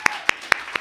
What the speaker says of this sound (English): Clap it up for you.